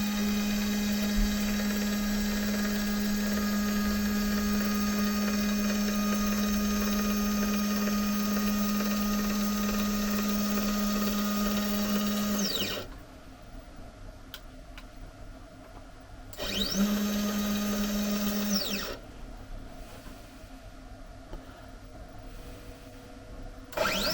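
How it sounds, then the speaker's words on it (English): A Sainsmart Genmitsu 4040 Pro CNC machine jogs its gantry over timber, the stepper motors giving a steady tonal whine that stops, restarts briefly with a rising and falling pitch, then goes quiet apart from low background hum. "So we'll jog the machine over."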